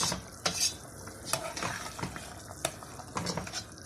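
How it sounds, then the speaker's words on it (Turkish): A spoon scrapes and knocks around a cooking pot of meat and okra stew in short, irregular strokes while food sizzles quietly underneath. "Bu şekilde tekrar karıştırdım tenceremi."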